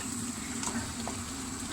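Tomato paste being stirred into a vegetable soup pot with a spoon, a steady soft sizzling and scraping texture close by, continuous and fairly quiet without talk.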